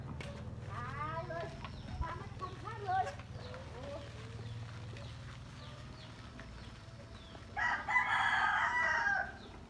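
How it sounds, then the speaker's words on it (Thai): A rooster crows loudly near the end, preceded by hens clucking and other bird calls over low background hum. "เสียงไก่ขันไก่ตัวนี้ฮะขัน"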